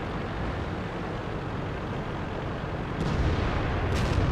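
Tank gunfire from the World of Tanks video game: a steady rumbling battle din with a heavier boom surging in near the end, no talk over it.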